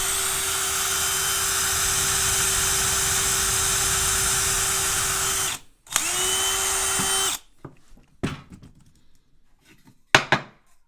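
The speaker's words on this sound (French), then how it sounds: "Et je vais donc mettre 4 vis dans chaque tasseau, ce qui est je pense largement suffisant." A power drill drives 5 mm screws into wooden battens during a home staircase build: a loud, close whirring run of about five seconds, a brief pause, a shorter second burst, then sparse clicks and knocks.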